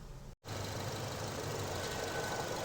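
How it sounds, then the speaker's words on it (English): A 2017 Nissan Sentra 1.8L engine with a lean fault idles steadily and fairly loud, a low rumbling drone that drops out briefly near the start before continuing. "right now the engine is running"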